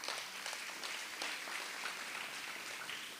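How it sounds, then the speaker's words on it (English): Steady applause from an audience at an Anguilla national elections debate, welcoming a moderator, continuous and fairly even throughout, heard at a moderate distance. "Round of applause for her,"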